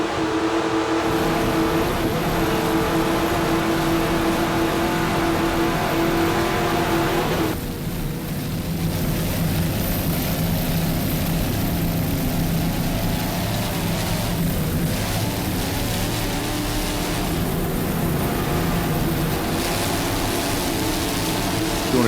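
Fourteen Fountain powerboats roar off the start of an offshore race, a dense, loud wall of engine noise with a sharp shift in tone partway through as throttles change, no talk over it.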